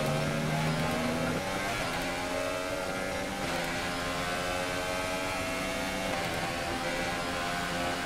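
A Formula 1 car in the F1 2019 video game during a night race in the desert drones on continuously with a shifting engine whine as it brakes into the final corner and drops through gears, loud and steady throughout.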